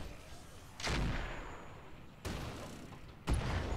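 Heavy weapons fire strikes a turret in the video game Roguepoint: three booming impacts roughly a second apart, each rising out of a constant rumbling battle-noise bed.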